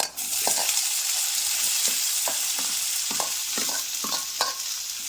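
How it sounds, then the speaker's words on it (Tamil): Onions sautéed with urad dal and dried chili in a pan for a pirandai chutney, producing a constant close sizzle with repeated soft scraping strokes of a spatula stirring every half second or so. "வெங்காயம் கோல்டு ப்ரௌன் கலரில் வர வரைக்கும் வதக்கணும்"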